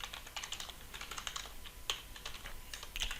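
Steady, close typing on a computer keyboard, a continuous patter of soft key clicks with a couple of sharper keystrokes standing out.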